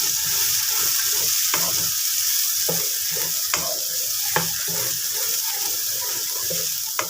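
Okra masala frying and being stirred in a pan, a continuous bright sizzle with irregular spoon scrapes and knocks every second or so, close and alone without talk.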